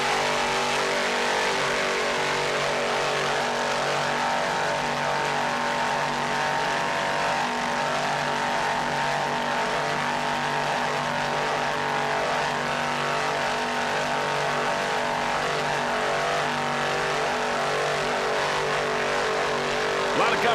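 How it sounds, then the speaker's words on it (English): Twin 550 hp Frank Marine inboards power a 33-foot offshore racing boat, a steady loud engine roar held throughout with a dense, even drone and no break in the sound. "Frank Marine inboard sound excellent. Pair of 550 horsepower."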